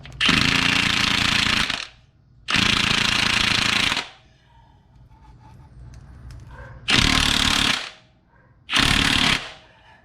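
An impact wrench hammers on the crank pulley bolt of a 2005 Honda CR-V in four loud, close bursts of about one to two seconds each, separated by quieter shop noise.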